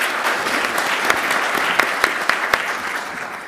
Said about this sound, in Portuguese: Palmas para a sua pergunta.